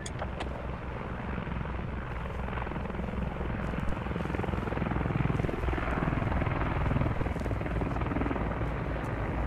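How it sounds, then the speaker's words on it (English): An enemy helicopter in the military shooter game Squad, its rotor chop a loud, steady low thudding wash that swells slightly as it flies, alone with no voices. "Enemy helo to our northwest, trying to touch down. He's flying off now."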